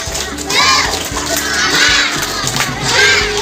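A crowd of primary schoolchildren at an elementary school does a rhythmic spirit clap and cheer, loud, near and continuous, with shouted voices over steady clapping.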